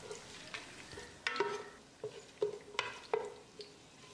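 Whole spices, including fennel seeds and optional dried rose petals, sizzle in hot oil for chicken biryani while a utensil stirs them, with irregular scraping clinks against the pan over a low, steady frying hiss.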